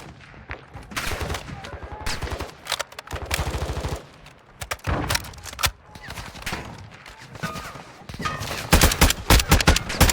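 Bursts of automatic gunfire from bots in Call of Duty Warzone DMZ rattle in close, dense volleys separated by short pauses, with players talking over the shooting.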